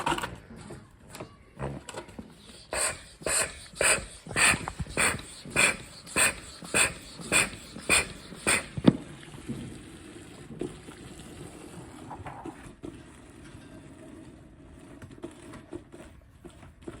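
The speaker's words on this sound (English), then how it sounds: "Let's see if I can get a close up of the hose when I'm sucking it here." A Sealey TP69 oil and fluid extractor is pumped to suck fuel through a hose from a Polaris Ranger. About a dozen regular, evenly spaced pumping strokes give way to a quieter, steady gurgling draw.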